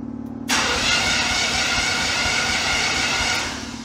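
A 1978 Camaro engine cranks over in a garage, kicking in abruptly after a half-second lull as a loud, steady starter-motor whir and churn that runs close and unbroken for about three seconds before easing slightly at the end.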